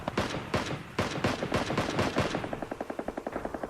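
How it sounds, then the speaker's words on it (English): Video game gunfire in Ring of Elysium comes as loud, dense volleys of overlapping shots, then settles into a fast, even automatic burst of sharp cracks near the end. "It was a hellish firefight."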